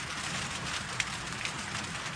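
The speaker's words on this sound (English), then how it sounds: "I don't know if you can hear it, but it's raining now." Rain falls steadily on a hot tent at a campsite, a soft, continuous patter with faint occasional drop taps and no talking.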